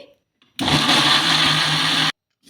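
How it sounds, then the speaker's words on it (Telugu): A mixer grinder grinding batter whirs loudly for about a second and a half, a steady high-pitched motor roar with a low hum, starting and stopping abruptly. "ఇప్పుడు మూత పెట్టేసుకొని మిక్సీ పట్టేసుకుందాం"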